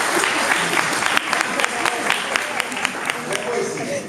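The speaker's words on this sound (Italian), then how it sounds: "che ringraziamo con un applauso" Audience applause at a poetry event in Partinico, steady dense clapping from a crowd, moderately loud and continuous throughout.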